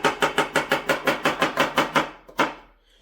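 A knife chops quickly and evenly on a cutting board for a vegan cheese sauce, about a dozen crisp close strokes in a steady rhythm, slowing to a final single chop before quiet.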